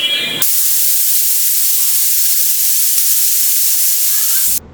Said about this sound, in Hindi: रोजमेरी वाटर स्प्रे मैंने अच्छे से स्प्रे कर लिया था, तो इसे मैं कंटिन्यूसली ही स्प्रे कर रही हूँ